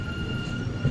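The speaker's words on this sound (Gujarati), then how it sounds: "મિત્રો આ માલગાડી ટ્રેન" A goods train on broad gauge track at a station gives a brief, steady rumble of rolling wagons at moderate loudness.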